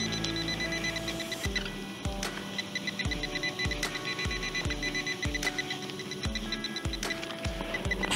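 A metal detector emits a steady electronic signal tone under a basketball arena, repeating in regular beeping pulses about once a second, clear and close with no talking.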